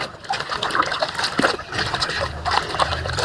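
Aagmuthua shak greens being rinsed and washed by hand in water, a steady close splashing and sloshing with brief gushes and trickles running throughout, no talk.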